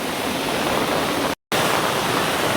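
Floodwater rushes through the submerged village of Ashagad near Dahanu as a loud, unbroken roar of churning water, cut off by a brief gap of silence before surging back just as strong.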